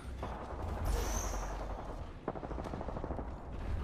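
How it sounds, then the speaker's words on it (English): Rapid bursts of gunfire crackle during an Apex Legends match, fairly faint and steady, with quick repeated shots overlapping through the short stretch. "I'm getting shot at"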